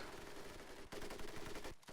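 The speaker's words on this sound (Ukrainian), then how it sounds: "Е, Кулемет." Machine gun fire in the World War II shooter game Medal of Honor Pacific Assault, rapid continuous bursts with a brief gap near the middle and a short pause before a final volley, loud and close.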